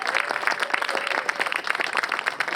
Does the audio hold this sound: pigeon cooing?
no